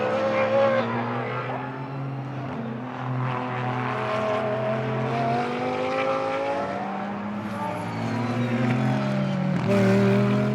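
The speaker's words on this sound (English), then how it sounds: "Marco Bononomi and Philippe Salaquada's 75 ISR continues out there on the track" An Audi GT race car in the Blancpain Sprint Series at the Moscow circuit during free practice, its engine roaring loud and steady with shifting pitch as it drives past, no talk over it.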